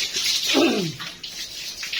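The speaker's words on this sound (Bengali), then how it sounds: "রাবিওকে গোসল করা দিচ্ছে সুন্দর করে" Running water splashes and gushes continuously over a pregnant German Shepherd being bathed, with a brief muffled sweep of sound partway through.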